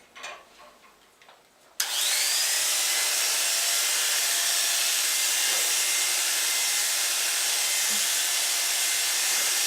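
Electric clippers switch on abruptly and run continuously, loud and close, buzzing through a groomed dog's fur after a few seconds of softer handling noise.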